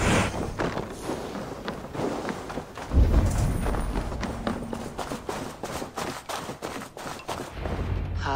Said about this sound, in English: Now I'm steering the horse.